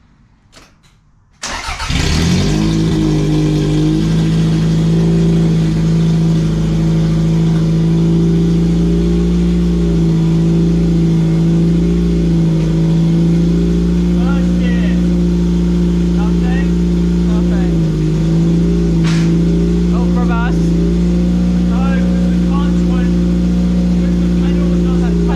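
A Toyota MR2 engine cranks and catches after a short quiet moment, then idles loudly and steadily with a strong low hum for the rest of the clip.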